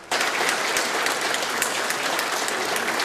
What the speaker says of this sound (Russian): и аплодисментами.